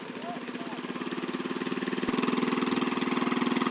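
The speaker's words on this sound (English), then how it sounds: "They come from all around the world to see the tiller race." Small tiller engine racing at a PurpleHull Pea Festival tiller race, a loud, steady rhythmic chugging that grows stronger and rises in pitch as it runs close by, with crowd voices faintly underneath.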